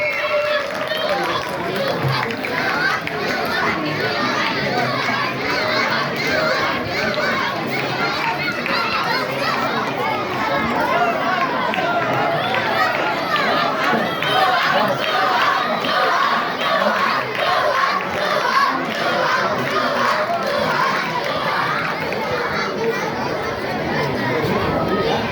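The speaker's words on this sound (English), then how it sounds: "Give a big hand for Blue House and keep cheering till they are here on the stage." Students cheer, shout and clap together as a crowd at an annual school sports ceremony, a steady dense wall of youthful voices that holds loud and continuous throughout.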